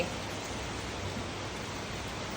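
Heavy rain makes a dense, unbroken hiss at a constant loudness throughout, with no voices over it.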